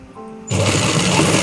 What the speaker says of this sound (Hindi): सीधा सिलाई लगाते रहिए आप, हल्का सा खींचते हुए इलास्टिक को।